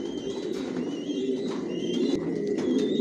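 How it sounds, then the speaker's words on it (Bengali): Imported Tiger Grizzle racing pigeons coo steadily in a loft, a continuous, fairly loud low burbling with no talk over it. "টপ কোয়ালিটির কবুতর পালি"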